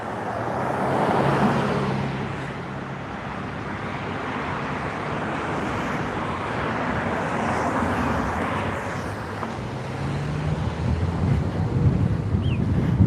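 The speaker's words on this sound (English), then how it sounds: "Well, that breeze feels good, huh?" A sea breeze at Waikiki, Oahu, Hawaii rushes steadily across the microphone for several seconds, a broad continuous wind roar with faint surf and distant traffic underneath and no talking.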